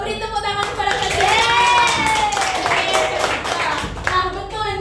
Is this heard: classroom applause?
yes